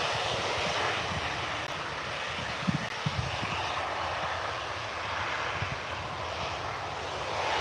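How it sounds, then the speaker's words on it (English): An Airbus A320 airliner departs Birmingham Airport, its engines giving a continuous broad, distant roar that holds steady throughout, with a few faint clicks and no talking. "The A321 just landed. Now the A320 heading out."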